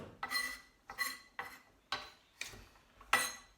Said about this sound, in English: So chopping, I'm using a rocking motion, like so.